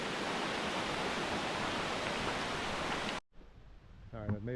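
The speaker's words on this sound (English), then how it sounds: "it's a beautiful creek." Indian Creek rushes steadily in a continuous loud wash of water in the Smoky Mountains, cutting off abruptly near the end, after which a voice briefly speaks.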